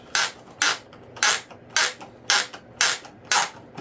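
Repeated creaking squeaks come in a steady rhythm, about two per second, as a screw is turned tightly into the plastic wing of a model MiG-25 RC plane, close and distinct.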